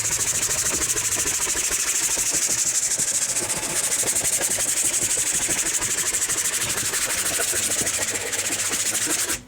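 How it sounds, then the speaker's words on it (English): Plastic scraper dragged across a waxed snowboard base in a crosshatch pattern, a continuous loud rasping scrape with fast repeated strokes, close up and uninterrupted until it stops abruptly at the end. "I might do one last little scrape here just to make sure I got everything."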